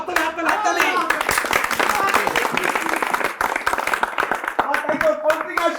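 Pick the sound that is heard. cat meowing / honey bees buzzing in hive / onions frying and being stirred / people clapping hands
people clapping hands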